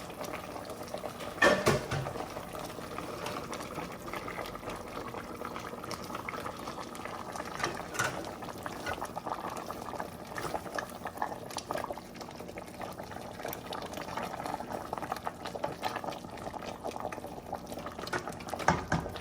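A pot of yam with fried pepper sauce and red palm oil bubbles steadily at a rolling simmer, a continuous close, moderately loud boiling texture with small pops, with no talking throughout.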